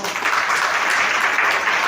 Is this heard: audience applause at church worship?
yes